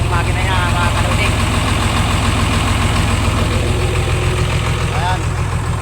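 Truck engine idling close by with a steady low rumble throughout, people talking over it.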